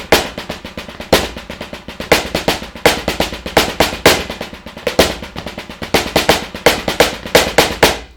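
Sharp, rapid drum strokes in a syncopated paradiddle phrase, with accented hits standing out among quicker soft notes, played close with no talking.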